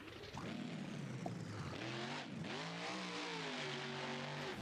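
Rear-engine Harper Willman chassis in BeamNG.Drive, its engine droning and revving steadily with rising and falling pitch sweeps, loud and continuous throughout without any talking.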